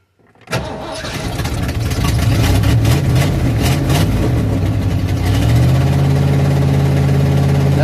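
A carbureted engine cranks and fires abruptly, then settles into a loud, steady run that climbs slightly and evens out into a sustained hum.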